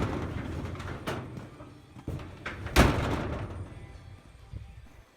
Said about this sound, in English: so I'll close this door.